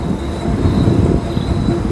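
A train rolls along on the Dullabcherra to Guwahati route, a loud, steady low rumble of wheels and carriage heard from inside, with a faint high whine above it and no talk.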